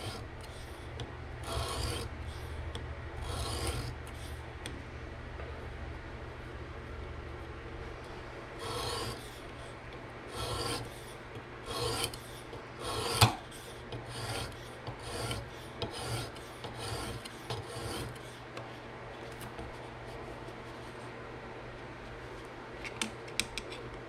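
An M390 steel Ferromonster Aurora Rays knife is drawn across a PDTools diamond resin stone on a TSProf fixed-angle sharpener, giving repeated short rasping strokes with brief pauses between passes, close and fairly quiet.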